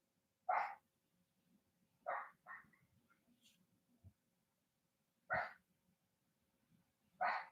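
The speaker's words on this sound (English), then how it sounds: "Sorry about the dogs." A small dog gives several loud, close barks, each short and spaced irregularly with quiet pauses between them over several seconds.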